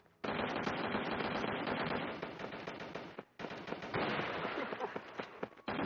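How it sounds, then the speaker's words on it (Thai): Video game gunfire from a powerful gun: dense, loud automatic bursts that run almost continuously, with one short pause near the middle. "นี่ครับปืนเนี่ย แรงนะครับ"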